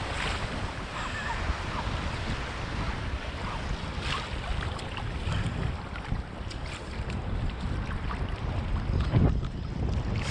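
Cold sea waves wash and churn close by under strong wind buffeting, a steady rough rush with occasional surges and splashes, no voices heard.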